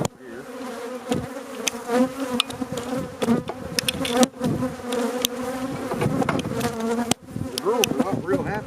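Honeybees from a weak hive swarm in a dense, close buzz while a hive frame is handled, the hum rising and falling with wings passing near, and occasional knocks of the frame.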